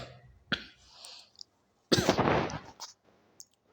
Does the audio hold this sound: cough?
yes